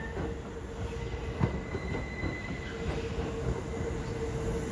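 A train rolls slowly over curved track points on a siding at Kawachi-Kokubu station on the Kintetsu line, with steady rumbling, faint wheel squeal and occasional clanks of wheels crossing joints.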